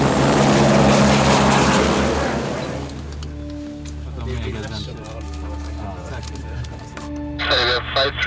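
A helicopter's loud rotor and turbine roar fills the opening seconds, then drops to a lower steady hum while voices and radio chatter talk over it.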